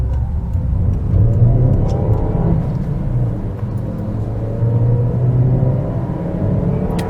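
A Fiat Panda Mk3 1.1 with a twin air engine accelerates on busy roads in a 0-60 run, its steady mid-pitched engine drone and road rumble holding loud and close throughout.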